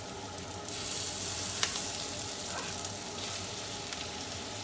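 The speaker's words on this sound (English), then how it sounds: "So here we are, we're sauteing these mushrooms, but in the sauce, and juices in the shallots and the juices from the meat." Mushrooms sautéing with shallots and butter in a hot pan for a Marsala sauce, a steady close sizzle and hiss with a few faint stirring scrapes and no talking.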